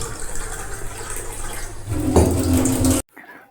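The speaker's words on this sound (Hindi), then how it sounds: "यहाँ से देते हैं पौधों को पानी" Water pours steadily from a tap or hose while plants are watered at a rural health and wellness centre, a continuous rushing splash that cuts off abruptly near the end, followed by faint quiet.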